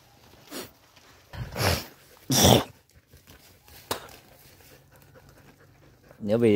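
A hunting dog pants hard after a long chase, in bursts of loud, close, rapid breaths mixed with sniffs and snorts, separated by short quiet gaps.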